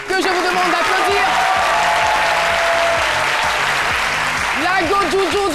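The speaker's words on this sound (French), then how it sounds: "Jean-Michel Ona, que je vous demande d'applaudir." A television studio audience bursts into loud, sustained applause on a French-language midday talk show, the clapping dense throughout while music with a bouncing beat plays underneath.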